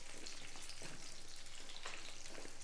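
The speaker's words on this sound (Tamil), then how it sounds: "வெங்காயம் கொஞ்சம் வதங்கட்டும்" Shallots sautéing in hot oil, a dense close sizzle with rapid crackles and an occasional stir scraping the pan.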